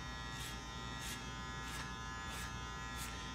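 Electric hair clippers hum steadily while cutting a fade with the adjustment lever open, a close, faint buzz with soft rhythmic swells as the blade passes through hair, and no talking.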